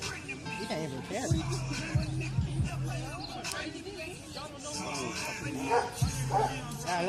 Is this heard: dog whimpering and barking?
yes